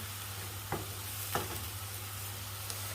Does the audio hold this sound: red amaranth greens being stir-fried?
yes